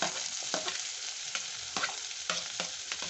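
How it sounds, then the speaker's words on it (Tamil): Onion and tomato sautéing in a pan give a constant crackling sizzle, punctuated by regular scraping strokes of a spatula, close and moderately loud. "தக்காளி நல்லா வதங்கட்டும்"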